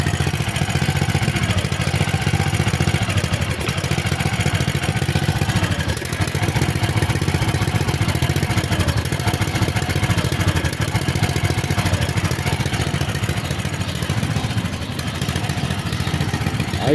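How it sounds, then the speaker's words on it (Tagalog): A Robin EY20 small engine fitted to a homemade four-wheeled vehicle runs continuously, rough and uneven with a clattering misfire, close and fairly loud without speech. "Medyo palyado nga lang yung makina."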